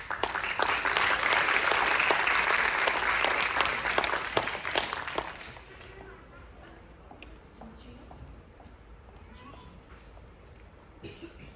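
Audience applause for two violin soloists at an orchestra concert, loud and dense for about five seconds before dropping away to quiet room noise with scattered coughs and shuffling.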